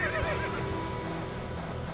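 A horse whinnies in a short, shrill neigh from a country radio station advert in the video game GTA San Andreas, fading into a noisy background.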